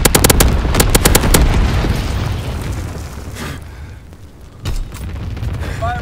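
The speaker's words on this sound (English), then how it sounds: "Bomber inbound. Dropping incendiary." Incendiary bombs dropped by a bomber in Call of Duty WWII multiplayer: a loud, rumbling barrage of explosions and rapid pops that fades into a lower roar, followed by a sharp blast.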